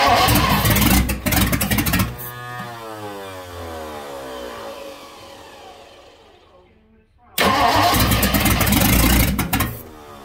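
A 1958 Ford Thunderbird V8 cranks and catches in loud bursts, then runs down over several seconds before roaring back up, with a brief backfire-prone, fuel-starved stumble in between.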